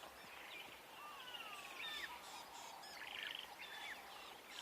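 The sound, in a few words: various birds calling, mobbed by a drongo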